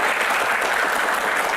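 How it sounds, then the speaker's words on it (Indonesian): Brief burst of enthusiastic audience applause at an Indonesian political Q&A event, a loud, dense clatter of many hands clapping at once. "Tepuk tangan dong semangatnya."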